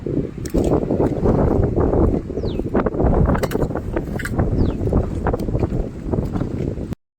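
Strong, continuous wind roars across the microphone in a farm field during coriander harvesting, a loud broadband rush with gusty buffeting throughout and no talking.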